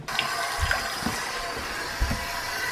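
Water gurgles and drains through a sink trap and pipe, with a continuous rushing flow broken by a few low glugging bursts, close and moderately quiet.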